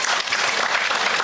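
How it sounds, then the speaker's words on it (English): A room full of people claps steadily for four award presenters at a company success-meet ceremony. The dense applause stays at an even level throughout, with no voices over it. "big round of applause for all these 4 gentlemen standing here"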